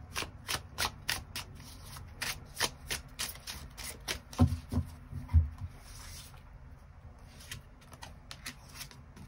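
A tarot deck is shuffled and cards are drawn, making a run of crisp, close papery flicks and riffles in quick bursts that thin out toward the end, with no speech.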